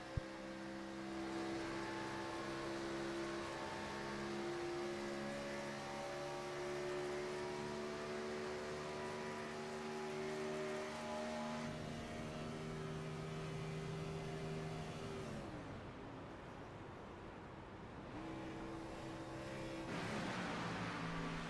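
A race car engine at Michigan drones steadily from onboard car number 50 in iRacing while fuel is being saved, its pitch holding, then dipping and rising again as the revs shift and the clutch is pushed in.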